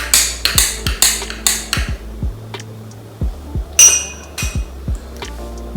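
A spoon stirs coffee in a glass plunger, ringing against the glass in a quick run of sharp clinks. A pause follows, then a second burst of close, bright tapping.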